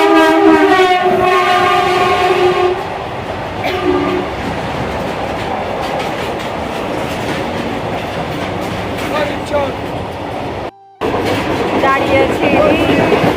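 A passenger train runs with a loud, continuous rumble and clatter, heard from on board. A horn blares near the start, and the train noise stays steady throughout with occasional voices beneath it.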